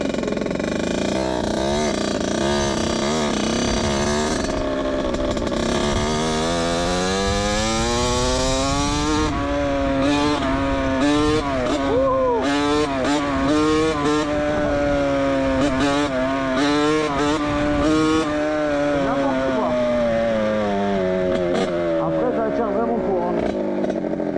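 A motorized bicycle engine runs steadily, its buzzing pitch rising and falling as the rider pulls away, loud and close throughout with talk mixed in.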